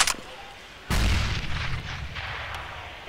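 A grenade detonates in a Counter-Strike match with a sudden loud boom that rolls out and decays over a couple of seconds, after a short sharp sound at the start.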